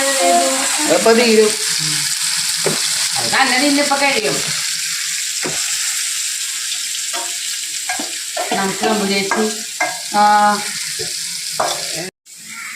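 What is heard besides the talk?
soya chunks frying in oil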